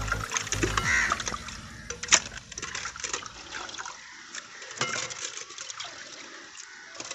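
Raw sea fish is washed in water by hand, with irregular splashes and sloshing near the microphone, while crows caw in the background.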